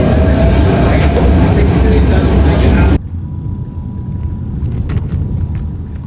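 Loud rumbling interior of a moving, crowded train in Hong Kong, with a sharp cut to quieter rolling noise and faint clatter midway; no clear speech.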